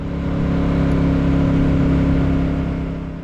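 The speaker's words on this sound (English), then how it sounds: "you can overtake on a Royal Enfield Classic 350" A Royal Enfield Classic 350 motorcycle overtakes, its single-cylinder engine droning steadily and fairly loud, swelling slightly through the pass with steady road and wind noise and no talking.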